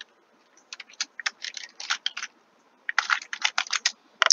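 Someone types on a computer keyboard close by, a quick run of light clicking keystrokes, a brief pause, then another burst of rapid taps.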